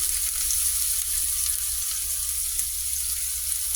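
Ham and onion frying in hot olive oil in a pan, a continuous bright sizzle heard up close at an even level with no voices.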